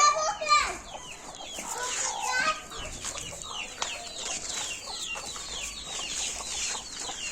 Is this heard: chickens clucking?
yes